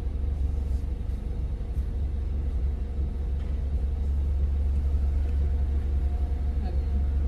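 A car idles with a steady low engine rumble as it pulls up at a car wash, holding a constant, fairly loud drone throughout.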